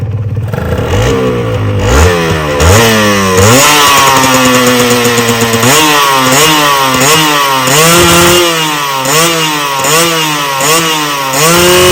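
A Honda NSR RW150 motorcycle engine revs repeatedly, rising and falling in pitch with a loud, raspy exhaust note, steady and close throughout.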